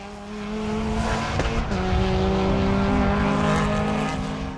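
A Renault Clio race car in the T4 class runs hard on the Braga circuit in summer heat, its engine roaring loud and steady with rising and falling revs and brief tire squeal, close by throughout.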